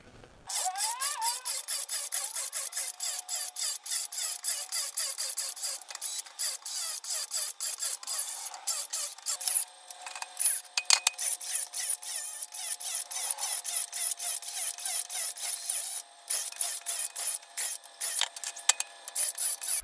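A 4x4 piece of wood is crosscut with a saw run on a knockoff DeWalt Flexvolt 9 Ah battery, making a rapid, rough, repetitive rasping that continues steadily and loudly throughout.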